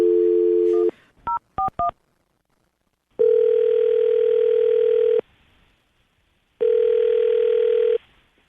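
A telephone call being placed: a dial tone cuts off, a quick burst of touch-tone dialing beeps follows, then two long ringback tones separated by silence, clear and close with no talking.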